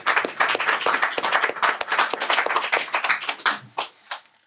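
A studio audience on a French music TV show claps loudly and fast for a performer, the sharp overlapping hand claps thinning out and trailing off near the end.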